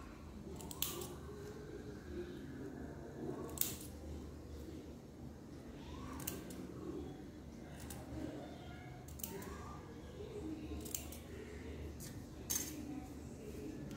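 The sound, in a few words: scissors snipping small cuts into fabric beside the stitching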